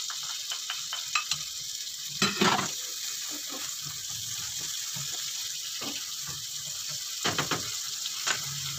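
Sautéed ingredients for a Filipino mung bean dish are stirred in a sizzling pan, with repeated scraping and clinking strokes over a steady frying hiss, no talk.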